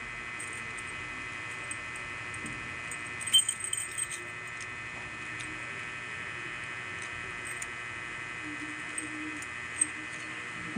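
Keys jangle briefly while a new doorknob is being unlocked. A short cluster of metallic clinks is followed by a few faint ticks against a quiet room hum.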